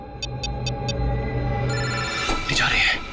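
A telephone rings after a call is placed, with four short, evenly spaced electronic trills at the start, then fading into a low hum and rising noise.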